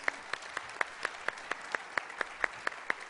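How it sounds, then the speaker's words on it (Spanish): A single person claps steadily at a conference panel, with evenly spaced, fairly faint sharp claps repeating about every quarter second, with no voices. "Por favor, un aplauso al señor José Carlos Zukowski."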